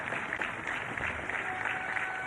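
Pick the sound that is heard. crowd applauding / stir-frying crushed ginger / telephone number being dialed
crowd applauding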